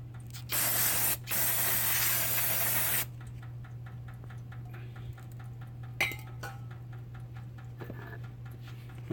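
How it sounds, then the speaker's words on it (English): Two bursts of aerosol brake cleaner hiss loudly and close onto a Jeep Cherokee XJ brake caliper, the second longer, followed by quiet light clicks and metallic ticks over a steady low hum. "you can spray a little brake cleaner on it"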